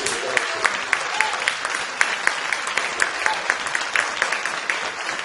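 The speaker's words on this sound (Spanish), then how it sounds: "Damos un fuerte aplauso a Jesús." A church congregation applauds during a Spanish-language worship service, a steady, dense wash of many hands clapping with sharper individual claps standing out, sustained loud and close throughout.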